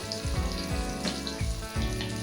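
Pieces of rui fish fry in hot oil for a home-style Bengali fish curry, giving a steady, close sizzle that bubbles without a break.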